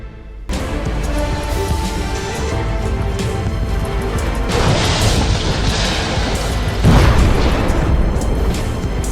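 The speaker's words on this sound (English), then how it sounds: "The truck crashed into the spot at the speed of light, creating an explosion effect" A truck crashes into a gas station and explodes, a loud, sustained roar of crashing and booming, with a burst and a heavier blast surging near the end.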